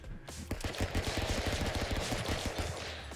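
Rapid bursts of video game gunfire from Stick Fight: The Game, a fast rhythmic string of sharp shots running steadily for a few seconds, loud and up close with no talk.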